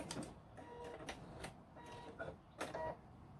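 A sewing machine back stitching fabric for a face mask, a faint, quick series of rapid mechanical bursts and clicks of the needle, start-stop in short runs.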